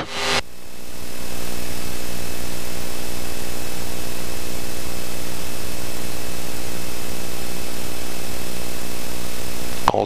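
A Cessna Citation V's jet engines spool up for the takeoff roll, a loud, broad, steady roar with a high whine, heard from inside the cockpit.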